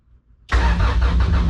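A high-compression Honda B20 VTEC engine cranks on a start attempt. Brief quiet rumbles come first, then a loud, close, steady churning drone.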